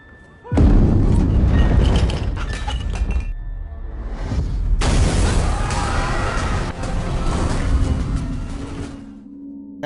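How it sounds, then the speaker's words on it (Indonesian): A sudden loud boom from the horror drama Hellbound, startling a crowd, hits abruptly and then rolls into a long rumbling, crashing wash with a second swell midway before it fades. "Tiba-tiba sebuah dentuman keras berbunyi membuat semua orang kaget."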